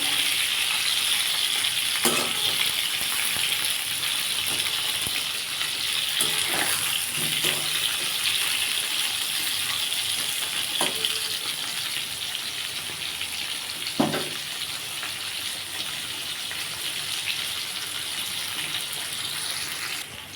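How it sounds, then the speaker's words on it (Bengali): Pointed gourd frying in hot oil, a constant bright sizzle with occasional spatula taps and stirring scrapes, no talking. "পটলটা আমি লাল লাল করে ভেজে নেব"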